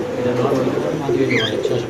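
Racing pigeons at a pigeon sale coo softly and steadily in the background, with a brief higher chirp near the end, while someone talks over them.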